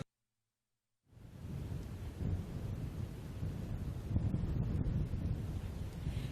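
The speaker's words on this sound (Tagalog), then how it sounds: "Sa ngayon ay malakas pa rin ang buhos ng ulan at mataas at malakas pa rin ang alon sa mga baybayin." Heavy rain and strong wind from Typhoon Maymay batter coastal Ilocos Sur, a dense, steady roar that begins abruptly after a second of silence and stays loud and unbroken, with wind buffeting the microphone.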